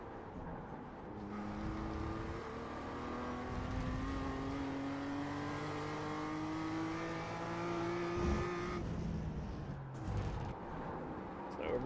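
A race car engine drones steadily as it laps a track, the pitch climbing smoothly through long gear pulls and dropping at shifts, heard from inside the car at moderate, constant loudness.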